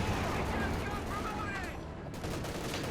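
Rapid gunfire from infantry and vehicle combat in the World War II real-time strategy game Company of Heroes 2, a dense, steady crackle of shots and bursts mixed low under ongoing game sounds.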